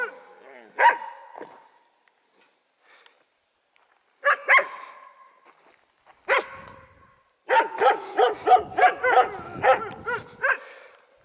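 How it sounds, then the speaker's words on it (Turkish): Dogs at a mountain village house in Azdavay, Turkey, bark in scattered single woofs, then a rapid run of repeated barks near the end, moderately distant with quiet gaps between. "Köpeklerin sesi."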